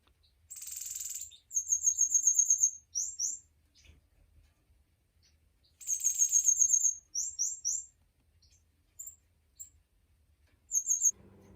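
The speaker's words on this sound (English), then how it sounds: "That's the male chick from last year that you hear singing" A young male pet bird from last year's clutch sings in repeated bright bursts of chirps and warbling trills, two long phrases with shorter calls between, close and clear over a quiet room.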